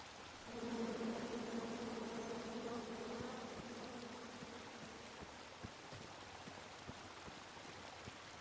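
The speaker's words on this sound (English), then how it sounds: "Come at me, bees!" Swarming bees buzz in a King's Quest Chapter 1 forest scene, a steady droning hum that swells in and holds for several seconds before thinning under faint ambient patter and light ticks.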